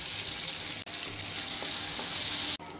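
Five-spice seeds and a tablespoon of chopped garlic sizzle steadily in hot oil for a pumpkin curry, a continuous close hiss that swells slightly toward the end, broken by two brief gaps.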